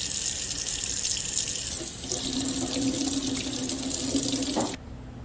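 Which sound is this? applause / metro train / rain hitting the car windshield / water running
water running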